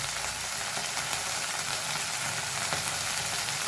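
Coriander powder sizzles in a hot frying pan, a steady, close crackling hiss that carries on evenly throughout without any voices.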